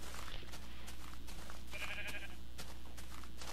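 Game sheep in Minecraft give a short synthetic bleat over a steady hum of background game noise, with no talking heard.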